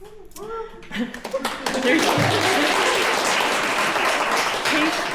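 Audience applause at an annual forestry and environmental management awards night, rising after a voice and holding as a dense, steady wash of clapping for several seconds.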